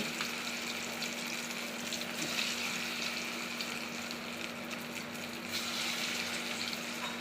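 Semolina snack dough balls fry in hot oil with a steady, soft sizzle and bubbling, faint and continuous, with no voices.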